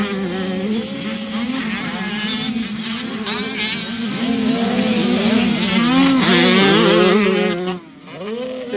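Several motocross bikes revving hard during a race at Fox Raceway, overlapping engine notes climbing and falling in pitch as riders shift and chase each other, loud and continuous with a brief dip near the end.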